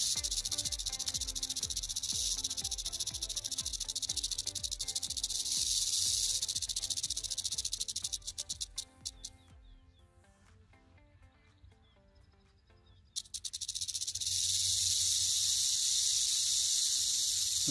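Rattlesnake sitting in grass near Raven's Roost Rock, giving a loud, continuous buzzing rattle close by that drops away for a few seconds midway, then resumes as strongly as before.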